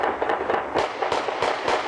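Dense, rapid barrage of sharp firework bangs and gunshot-like cracks at New Year's midnight, bursting continuously and loudly with no voices.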